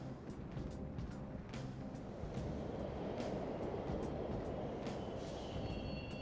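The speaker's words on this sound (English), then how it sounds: "Oh look, The trains are totally running." Subway train running through a tunnel in the video game Persona 5, a steady rumbling roar with rhythmic clacks of wheels over rail joints, close and continuous throughout.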